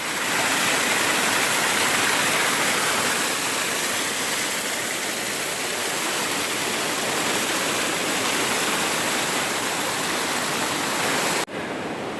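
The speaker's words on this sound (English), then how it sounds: "The creeks are really swollen, and just a lot of water" A rain-swollen creek along the Appalachian Trail rushes loudly in a constant broadband roar, unbroken and close, with a brief dip near the end.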